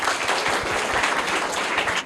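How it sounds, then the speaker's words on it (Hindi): A group of children at a school quiz applauds the second-place winner, a loud, close, dense burst of clapping that holds steady for two seconds and then cuts off sharply. "तो इसके लिए भी जोरदार तालियां हो जाएं।"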